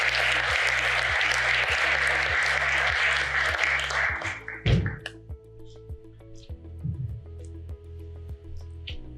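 An audience applauds a speaker at an academic conversation event, a steady round of clapping that fades out around the midpoint, followed by a quiet room with a low electrical hum and a few small knocks.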